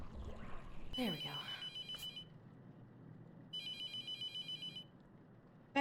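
A telephone rings inside a video game in two trilling bursts, each about a second long with a pause between, clear and electronic over a quiet room hum after a brief thump.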